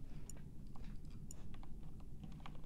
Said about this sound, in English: I'm typing really quick, so it's hard.